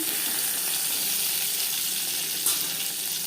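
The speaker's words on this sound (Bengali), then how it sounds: "জ্যান্ত মাছ আমি একটু হালকা করেই ভেজে নেব" Shing fish (stinging catfish) frying lightly in a pan gives a steady, close hiss and sizzle that holds evenly throughout, with one brief louder spatter near the end.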